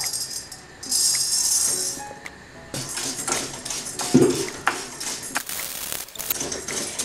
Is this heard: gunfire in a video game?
no